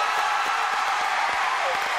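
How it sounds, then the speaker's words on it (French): Steady applause from a television studio audience for Ophélie Winter, a dense continuous wash of clapping with faint crowd murmur underneath, moderately distant and even throughout. "Applaudissements pour Ophélie Winter"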